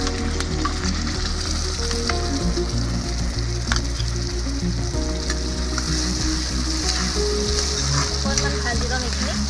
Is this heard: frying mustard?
yes